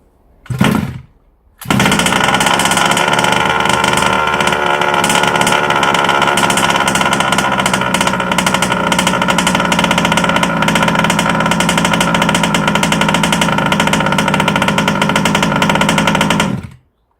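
A small engine fires up after a short pull, then runs loud and steady with a buzzing, rattly idle for about fifteen seconds before shutting off abruptly.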